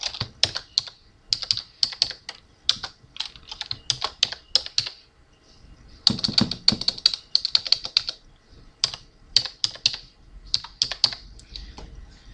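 Keys clatter on a computer keyboard in steady bursts with brief pauses, entering text into Silhouette design software for a vinyl quote on a coffee mug; close and clear with no voices.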